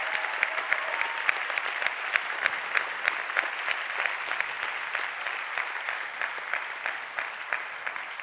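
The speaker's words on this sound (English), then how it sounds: "could I ask you to give Jackie and Sean a big round of applause just for their openness and honesty?" Audience at a talk on the Northern Ireland peace process gives sustained applause. The clapping is even and continuous, moderately distant, with a few sharper individual claps standing out.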